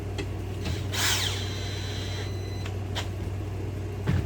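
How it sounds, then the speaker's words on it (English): Boards are screwed together for a wooden trotline box with a power drill or driver: a brief whirring burst near the start, then a few short clicks and taps over a steady low hum. "Let me screw this together and I'll hold it up so you can see it a little better."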